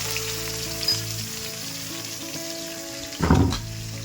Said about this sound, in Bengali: তেল গরম হয়ে গেছে এবার আমি মাছগুলো দিয়ে দেবো